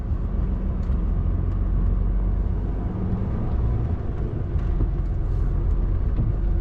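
A vehicle reversing slowly, a steady low engine rumble with road noise, continuous and close from inside the cab.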